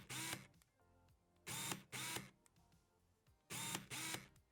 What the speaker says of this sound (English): If you want to hear how a noisy lens sounds like,